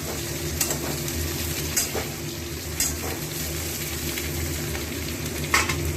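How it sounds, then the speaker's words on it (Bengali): Eggplant frying in a pan for a yogurt eggplant curry, a steady close sizzle throughout with a few faint clinks of stirring. "বেগুনটা একটু ভাজা ভাজা হবে"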